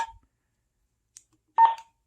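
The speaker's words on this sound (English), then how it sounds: "I'm going to power on my APX first." A Motorola APX radio powering on gives short electronic tone bursts: a brief chirp at the start, a tiny blip in the middle, and a louder two-part tone near the end, with silence between them and no talk.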